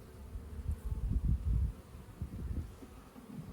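Honey bees in the top box of a hive give off a low, steady buzzing hum mixed with faint rustling, moderately close.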